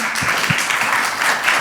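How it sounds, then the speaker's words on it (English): Audience at a product marketing summit in New York gives a speaker a round of applause, moderately loud, steady clapping with a few distinct near claps over a murmur. "Round of applause."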